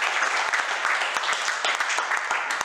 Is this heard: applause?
yes